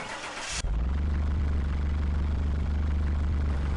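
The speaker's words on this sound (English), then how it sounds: "That is a weird sounding engine." In the video game Car Mechanic Simulator 2021, a short high-pitched whir cuts off abruptly, and a car engine turns over into a loud, steady, low rumbling idle that holds evenly to the end.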